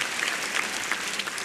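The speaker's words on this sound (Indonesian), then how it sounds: "Tepuk tangan dulu dong." A stand-up comedy crowd breaks into applause, a fairly faint, even wash of many hands clapping at a distance, sustained without pause and with no voices on top.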